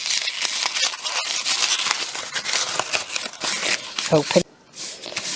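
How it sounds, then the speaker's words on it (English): Cheap, thin paper being scrunched up by hand gives a dense run of crackling, crinkling rustles that keeps going with little pause, then breaks off briefly near the end. "just keep scrunching it and scrunching it."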